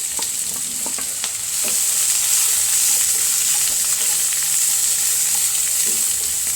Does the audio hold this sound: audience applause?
no